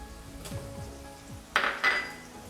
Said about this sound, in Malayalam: ഒരു തക്കാളി അരിഞ്ഞതിട്ട് കൊടുക്കാം.